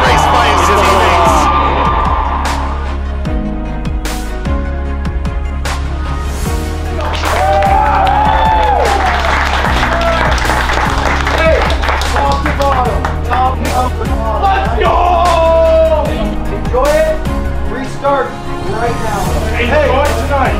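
A hockey game crowd claps and cheers steadily under an announcer's amplified voice, with whoops rising here and there over the arena din.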